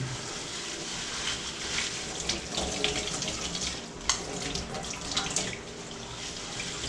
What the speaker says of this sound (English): just give it a rinse off with the water